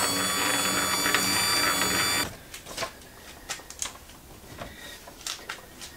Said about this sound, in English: At the moment I'm cutting out a 68 tooth gear using my dividing head.